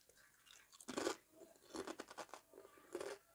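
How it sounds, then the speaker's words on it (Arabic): Close, crisp crunching of thin potato chips made in an air fryer with no oil, several sharp bursts of chewing or handling in quick succession over about three seconds. "سامعين القرمشه؟"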